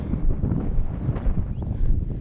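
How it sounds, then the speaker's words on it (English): Steady wind buffets the microphone at a horse arena, a continuous low rumbling roar with no voices. "It's very windy too."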